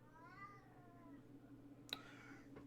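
A kitten meows in a quiet room over steady low hum, a soft drawn-out cry at the start, then a sharp click and a faint second call near the end.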